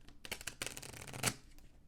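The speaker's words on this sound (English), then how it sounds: "it's a little bit more of a struggle to get them to shuffle" A tarot deck with stiff, lower-quality cardstock is shuffled close up, a short quiet flurry of riffling card flicks ending in a brief louder ruffle.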